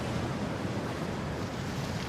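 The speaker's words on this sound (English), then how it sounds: "the west coast of Ireland gets some of the biggest waves in Europe" Big ocean waves surge and break along the west coast of Ireland, a continuous loud, broadband roar of surf with some wind noise and no pause throughout.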